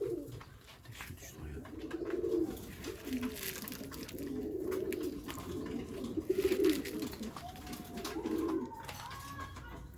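Several pigeons of a fancy feathered-foot breed coo in repeated low, throaty rolls close by, with soft rustling and faint chirps in the background and a voice briefly present.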